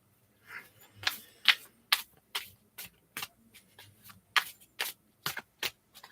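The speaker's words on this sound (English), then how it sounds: "I do just want to make sure that these cards are shuffled well before I begin." A deck of cards gets shuffled close up in a quiet room, a series of about a dozen crisp riffling bursts at uneven intervals, with no talking.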